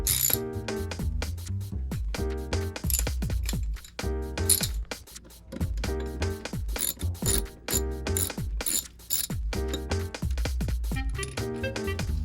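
Hand ratchet with an 8mm socket loosening long bolts from a sump plate on a sailboat, rapid repeated clicking strokes in bursts close to the listener, with metallic chinks between runs.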